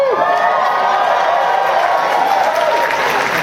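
A large convention crowd at a Dragon Con panel applauds and cheers continuously, a dense, loud wash of clapping with scattered whoops that fills the room for the whole stretch.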